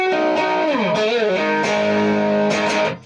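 Electric guitar with a Hot Rails pickup in humbucker mode, a few loud driven strummed chords with a pitch-bending phrase in between, ringing out close and alone.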